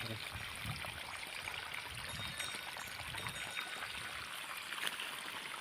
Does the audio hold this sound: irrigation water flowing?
yes